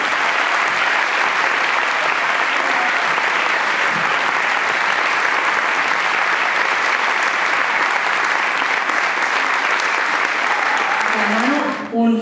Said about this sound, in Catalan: Un fortíssim aplaudiment per veure com es mereixen els gospelians de Girona.